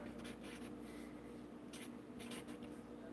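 A name being written by hand on paper, making faint scratchy pen strokes in short bursts over a steady low background hum.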